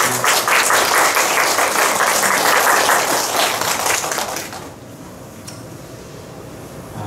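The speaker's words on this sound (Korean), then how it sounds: "우리 박수로 환영하겠습니다." A church congregation applauds to welcome guests at a Sunday service, loud sustained clapping from many hands in a large room that fades away after about five seconds into quiet hall ambience.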